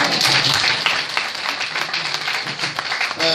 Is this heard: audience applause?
yes